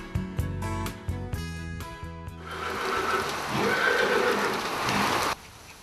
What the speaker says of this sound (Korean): 겨울비가 내리는 다음 날